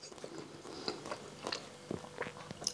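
Crunchy bites into a fresh spring roll with pork, peanut butter, carrots and bean sprouts, giving a series of close, crisp crunching and chewing sounds that come in irregular bursts.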